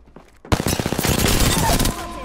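Rapid automatic gunfire in the video game Apex Legends, a loud close burst of dense shots that cuts in after a quiet start and rattles on for over a second before trailing off.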